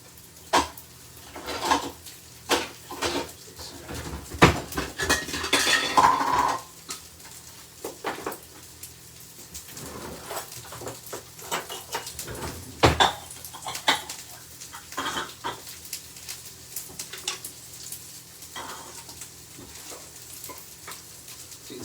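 Tomato bits stirred around a hot pan with gentle sizzling, with utensil scrapes and pan clatters recurring irregularly in a close, quiet kitchen.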